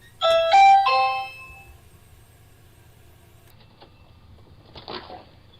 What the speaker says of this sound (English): This mantis rang the doorbell